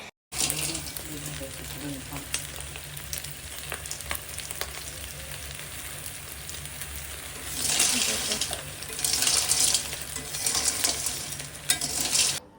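Snails frying with turmeric and salt in a wok, a continuous close sizzle with stirring scrapes that grows louder in bursts toward the end; a faint voice sits underneath.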